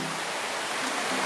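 Water murmurs from a waterfall on Mount Lorokan, a steady broadband rush with no breaks and no voices.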